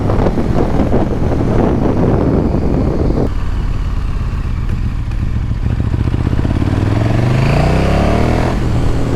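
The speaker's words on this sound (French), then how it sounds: "En bas des tours elle est monstrueuse cette moto." A KTM 1290 Super Duke motorcycle engine roars hard under acceleration while riding, its pitch climbing through the gears over heavy wind buffeting on the microphone, loud and close with no speech.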